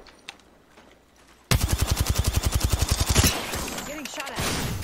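Automatic weapon fire in the Apex Legends battle royale game: a rapid, loud burst of evenly spaced shots lasting nearly two seconds after a quiet start, followed by scattered impacts and game effects.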